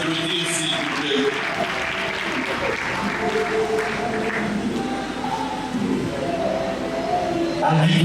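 Sustained applause from a crowd of mourners at a funeral, steady and dense throughout with voices mixed in underneath and swelling slightly toward the end.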